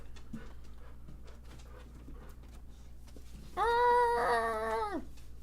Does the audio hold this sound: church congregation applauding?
no